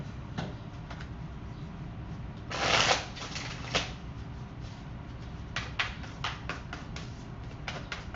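Oracle cards are shuffled in a tarot reading, giving soft riffling and slapping bursts, one louder flurry early on and then a series of quick card snaps, close and without speech.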